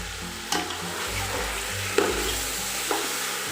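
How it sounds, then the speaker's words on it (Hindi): About 1.25 kg of chicken pieces go into a hot pan of oil with green chilies for degi pulao, giving a close, steady frying sizzle with a few clanks of stirring. "चिकन हम डाल देते हैं।"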